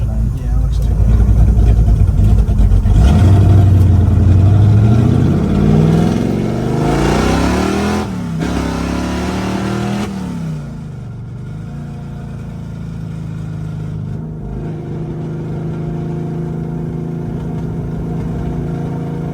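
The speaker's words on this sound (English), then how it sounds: "I'm going to open up the exhaust." A 1967 Chevrolet Chevelle SS396 V8 running with its exhaust cutout opened, a loud deep rumble that revs and builds, then settles into a steady lower drone while driving.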